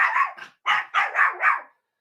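A large black dog barks nearby in a loud burst of about five deep woofs, the first two close together, then three more after a short gap, with no one talking over them.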